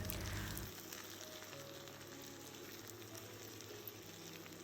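Sliced onions sauté in hot oil with salt for a Kerala-style egg roast, giving a steady close sizzle and crackle that starts loud and settles into an even hiss with faint stirring.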